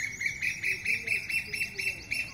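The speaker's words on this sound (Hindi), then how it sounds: "कोयल सामने बोल रही है।" A koel calls close by in a rapid, repeating series of bright, high notes in a steady rhythm, fairly loud against a faint background hum, with no talking.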